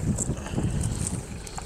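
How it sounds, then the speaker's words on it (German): Wind buffeting the microphone outdoors in Scandinavia with low rumbling gusts, steady and rough, with no voices. "Ja, ist überall windig"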